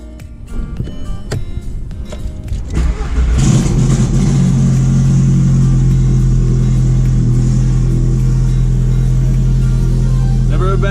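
Cold start of a big-turbo Volkswagen Jetta running E85: scattered clicks and cranking build into the engine catching with a loud rumbling roar, then a steady, heavy idle close by.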